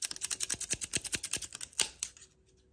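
Scissors chop through a thick chunk of hair in a steady rapid series of crisp close snips, about a dozen in quick rhythm, ending with a final louder cut and then quiet, no talking.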